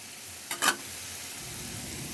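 Two quick scraping stirs of scrambled egg and spring onion in a frying pan, brief bursts over a faint background hiss, no talking.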